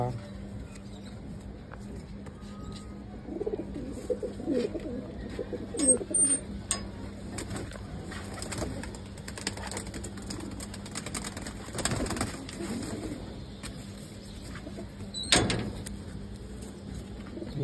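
Pigeons kept by a fancier in Old Dhaka coo softly and intermittently in the background, with voices and other loft noises mixed in.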